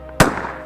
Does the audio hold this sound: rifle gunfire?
yes